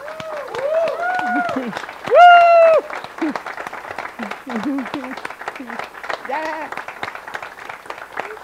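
Warm applause from a gathering at a talk on psychedelics and rituals, steady moderate clapping from the audience with whoops and cheering voices over it.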